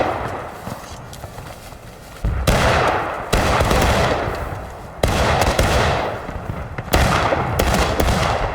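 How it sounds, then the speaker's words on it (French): Musket volleys in the Civil War video game War of Rights. Four loud, sharp volleys come a second or two apart, each with a long rumbling tail that dies away, and there is little other sound between them. "On se prend des tirs dans le dos?"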